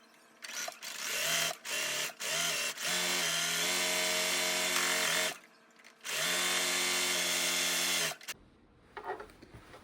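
A sewing machine serging or zigzag-stitching the raw edge of pants fabric runs in loud, close bursts of rapid mechanical whirring, several short starts and then two longer sustained runs separated by brief pauses.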